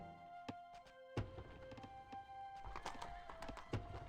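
Light horses in the Rise of Nations video game gallop with repeated clip-clop hoofbeats, mixed with other faint game sound effects and short chimes.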